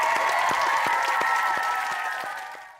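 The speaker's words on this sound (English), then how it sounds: "Big round of applause for the Funkstylerz" Studio audience clapping for the breakdance crew Funkstylerz on a children's TV show, a steady wash of applause under a sustained musical tone, fading out near the end.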